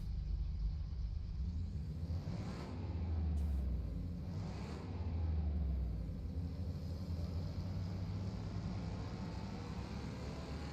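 A car engine running steadily on a dyno after ECU tuning, a constant low rumble with two gentle swells in intensity near the start before settling into an even drone, no voices.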